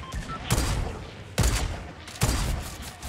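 A big sniper gun in a video game firing three loud, booming shots spaced about a second apart, each with a long rolling tail.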